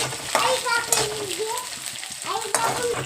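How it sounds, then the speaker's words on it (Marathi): Whole unpeeled garlic cloves frying in hot oil, a steady broadband sizzle with a few sharp stirring scrapes and clatters, with faint background voices and tonal sounds. "आपण आता त्याच्यामध्ये लसूण टाकून घेऊया दोन मिनटं आपण फ्राय करून घेऊया पूर्ण लसूण"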